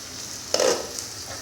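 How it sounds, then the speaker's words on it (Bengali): Vegetables fry for fried rice with a soft, close sizzle under one brief stirring scrape near the middle and a fainter clink after it. "এখানে এখন সবজি ভাজা হচ্ছে"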